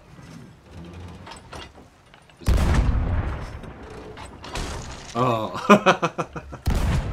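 Ship cannons fire in a pirate video game at sea, with several heavy booms and rumbling impacts, the loudest bursts coming in the second half amid clattering mechanical noise, and players' voices briefly heard.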